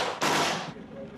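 Gunfire from inside an army base strikes a bus carrying soldiers' mothers in eastern Ukraine: a sharp, loud burst of shots lasting about half a second, then a fading tail.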